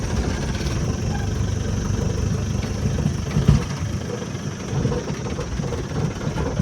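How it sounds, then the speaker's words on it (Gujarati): A tractor engine runs steadily in the salt desert of the Little Rann of Kutch, a low, continuous rumble that stays even throughout with a faint bump partway through and no voices. "મિત્રો અહીંયા કને ટ્રેક્ટર ચાલે છે"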